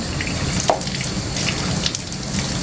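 A paintbrush is rinsed under a running tap at a sink, with steady splashing water and scattered drips and small clinks, close and moderately quiet, no talking.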